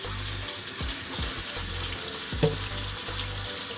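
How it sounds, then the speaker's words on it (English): Callaloo leaves being rinsed under a running kitchen tap, a steady close rush of water broken by several short splashes and a single clunk. "Wash it off again"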